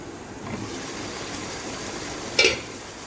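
Chicken frying in a pan for a spiced kosha curry, a soft steady sizzle with one brief louder stirring scrape near the end, fairly quiet and with no talking.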